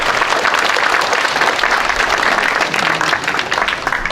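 A crowd at a memorial ceremony applauds steadily, with dense continuous clapping filling the whole stretch.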